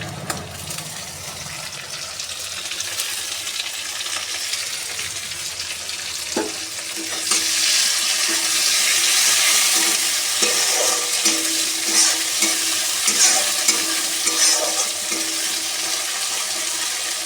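Chopped tomato fries in hot oil in a pan, a steady close sizzle that grows louder midway, with the scrape and clatter of a spoon stirring through it.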